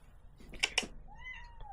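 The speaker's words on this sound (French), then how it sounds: "elle miaule" A cat gives one short meow after a couple of soft clicks, followed by a thin rising whine, close and fairly quiet.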